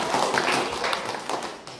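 Hands clap at a welcome gathering for Ramadan in Indonesia, giving a short burst of dense, close applause that goes on without pause.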